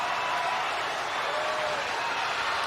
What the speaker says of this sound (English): you knew something happened because the crowd is yelling